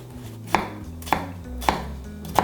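A knife chops onions on a cutting board in four crisp, evenly spaced strikes, close and distinct, with no talking.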